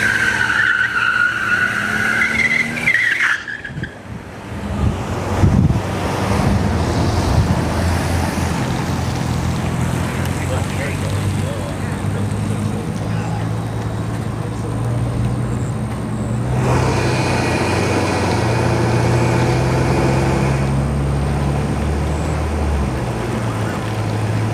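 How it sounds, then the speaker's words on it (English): A Chevrolet Silverado and a Ford Ranger launch down a drag strip at a test-and-tune event: a tire screech and engine roar at the start, then loud, sustained engine noise and passing rumble that fades and shifts as the trucks race away, with no talk. "let's see if the Silverado can beat the Ranger this time."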